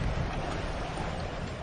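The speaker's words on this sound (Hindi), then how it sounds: "कितनी तेज हवा चल रही है।" Cartoon wind blowing hard in a steady, broad roaring rush, constant and fairly loud throughout with no voices.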